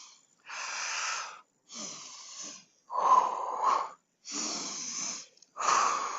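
Heavy breathing during a yoga-style exercise: five loud, breathy, wheezing inhales and exhales, each lasting about a second, separated by brief silences, close to the microphone.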